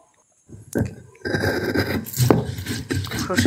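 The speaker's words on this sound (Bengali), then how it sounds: "অল্প সর্ষে তো গ্রাইন্ডারে দিলে হবে না, তাই পাটায় দিয়ে বেটে নিলাম সর্ষেটা" Mustard seeds with green chilli being ground by hand on a stone grinding slab, giving a close, steady gritty scraping and rubbing that starts after a brief silence and continues throughout.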